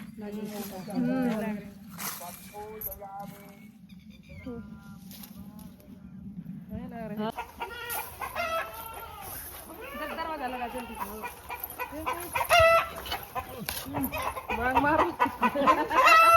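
Chickens cluck and call repeatedly amid farmyard noise, with people talking nearby; the calls grow busier and louder toward the end.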